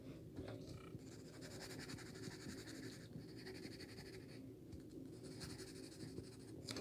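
A pencil sketches Darth Maul on paper, giving a faint, close, continuous scratchy rasp with small pauses between strokes.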